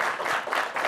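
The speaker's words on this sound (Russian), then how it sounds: "Вот эти аплодисменты для вас." A brief burst of audience applause at a Gomel concert evening marking Defender of the Fatherland Day, many hands clapping together in a dense, even wash.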